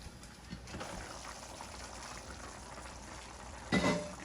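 Hot water poured into a simmering pan of Ethiopian dirkosh firfir with meat, after the onions and fat have cooked down; a soft, steady bubbling hiss, with a brief louder splash and sizzle of the pour near the end.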